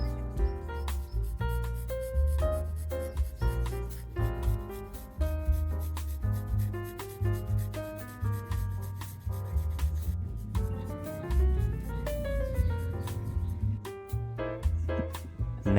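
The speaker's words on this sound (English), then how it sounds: "grate in 5 garlic cloves using a microplaner" Garlic cloves are grated on a microplane for chicken kebabs, giving a steady, rhythmic rasping of repeated strokes over background music.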